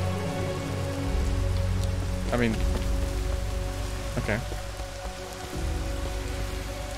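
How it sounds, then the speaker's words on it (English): Steady, loud rain falls throughout a scene in the Lara Croft and the Temple of Osiris video game, a constant downpour hiss while a person briefly says a few words over it. "Return to Osiris's shrine and banish the rain."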